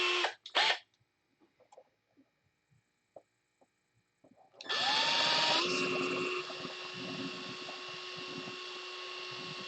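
A power tool grinds steadily for about five seconds after a quiet stretch of brief bumps and a couple of short whirs at the start, its loud whine settling into a constant pitched hum.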